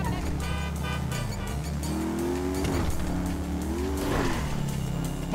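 In a video game chase, a big 140-cubic-inch motorcycle roars nonstop, its engine pitch climbing and dropping as it revs through gears, loud and close, with faint squealing tires mixed in.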